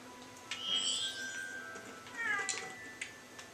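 Cat meows from the Lego Harry Potter video game, two or three short high-pitched mewing calls over a low game-music background, with no talking.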